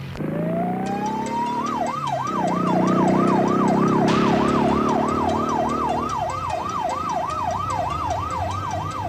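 A police car siren in an action film wails loudly and continuously, rising first and then cycling in a rapid up-and-down yelp over a rumbling vehicle, with a brief surge of noise partway through.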